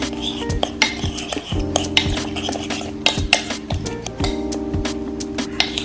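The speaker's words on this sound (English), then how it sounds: "Now I will combine all the seasoning." A spoon stirs seasonings together in a bowl while making Jamaican-style steamed fish and okra, giving repeated close scraping and clinking strokes against the bowl in an uneven rhythm, with no voices.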